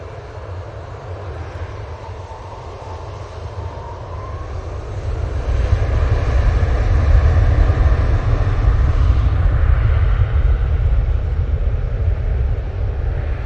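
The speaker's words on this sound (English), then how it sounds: "That 737 is off to Antalya for Jet2." Jet2 Boeing 737 airliner departing Manchester Airport for Antalya, a distant jet roar that builds and holds as a loud, steady rumble with a broad whine on top.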